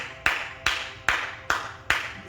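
Five separate handclaps at a church service, spaced evenly about every half second, each a sharp crack that trails off quickly, with no talk between them.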